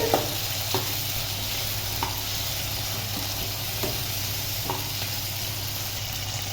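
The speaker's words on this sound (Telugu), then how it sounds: "ఒకసారి బాగా కలుపుకోవాలండి" Green chillies are stirred in a frying pan over a steady background sizzle, with a spatula scraping and tapping the pan every second or so.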